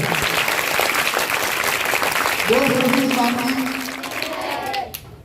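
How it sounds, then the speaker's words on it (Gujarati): A group of primary school children clapping together at a school assessment-day gathering, steady dense applause for about five seconds with voices mixed in, fading at the end. "તાળી ચાલુ કરો."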